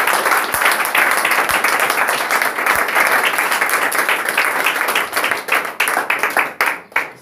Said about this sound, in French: Applaudissons pour le Seigneur pour sa vie.